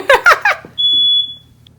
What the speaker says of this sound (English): Oh, that's a different timer coming off.